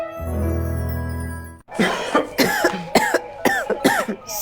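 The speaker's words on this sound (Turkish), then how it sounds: "Siz öksürünce ben çok üzülüyorum." A person coughing in a series of short, harsh, close bursts, several in quick succession, after a sustained tonal sound at the start.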